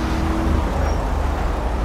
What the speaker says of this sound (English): Oh no, the tires are spinning out.